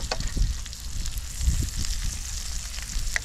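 Water spinach fries in a pan outdoors by a river in Taiwan, giving a steady close sizzle with soft crackles and occasional stirring bumps.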